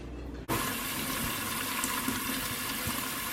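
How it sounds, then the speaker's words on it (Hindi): Tap water pours steadily into a kitchen sink whose drain is plugged with an old cloth, a loud continuous rushing fill that starts abruptly after a brief quiet moment, with no voices. "सिंक के अंदर सिंक के ड्रेन को ब्लॉक कर देंगे पुराने कपड़े से और उसे पानी से भर देंगे."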